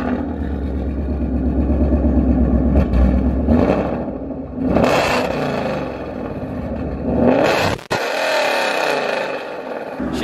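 A 650hp Ford Mustang with long tube headers and Roush mufflers revs loudly nearby in repeated deep rising bursts with a throaty exhaust rumble, followed by a sharp crack and a lower idle.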